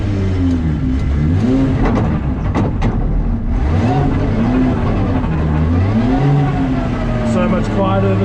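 Inside a 2JZ-powered Nissan S15 drift car on the move, engine rising and falling through the revs with a whining drivetrain tone, loud and constant, while people talk over it.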